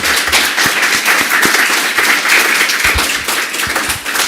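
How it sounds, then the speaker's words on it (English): Close, loud applause for a panel at a COP27 climate event, many hands clapping in a dense, steady burst with sharp individual claps standing out throughout. "please join me in giving this panel a round of applause"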